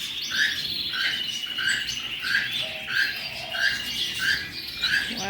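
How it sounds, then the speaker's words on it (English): Small finches in a bird store give a repeated, evenly spaced high chirping over a constant bright background chatter of many birds, with soft rustling and fluttering mixed in. "These little finches, they're flying everywhere."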